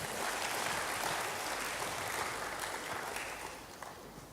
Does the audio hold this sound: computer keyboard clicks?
no